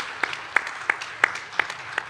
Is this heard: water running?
no